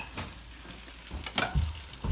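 Rice and cheese melting together in a pot, giving a soft, steady sizzle with a few scrapes and stirring bumps near the end.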